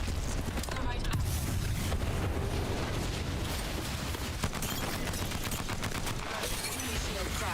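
Frag grenade blasts and rapid gunfire from an Apex Legends match, a dense, continuous barrage of booms and shots at steady loudness throughout, with faint voice in the mix.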